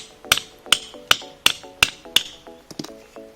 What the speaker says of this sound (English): So just keep the center bolt like this and start hammering.